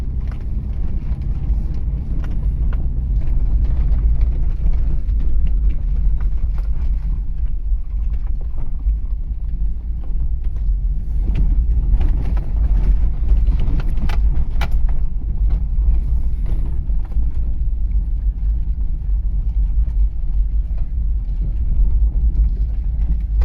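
Low, steady road rumble of a car cruising along a park road through scrubland in South Australia's Coorong region, continuous and close with faint rattles and bumps throughout.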